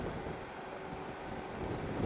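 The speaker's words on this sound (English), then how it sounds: "Still dealing with a ferocious wind. Very, very strong." Strong, ferocious wind roaring past the microphone during a motorcycle ride near Pelly Crossing, a steady loud rumbling buffet with no voices.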